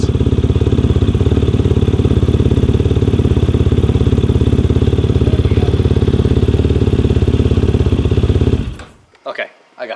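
A dirt bike engine runs loud and close at a steady, throbbing idle, then cuts out near the end, leaving a few brief knocks.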